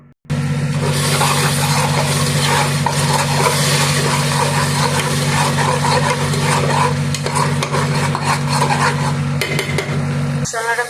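Spices cooking down in a pan for a goat meat and potato curry with ginger, salt, chilli, turmeric, meat masala and cumin, a dense continuous sizzle with spoon scraping and stirring clatter over a steady low hum, ending abruptly.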